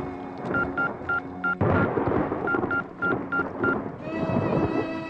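Several short electronic keypad tones beep in quick succession, a phone number being dialed, followed by a steady tone.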